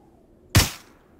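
A single sharp gunshot in a shooter game, one loud crack with a short decaying tail standing out against quiet background noise.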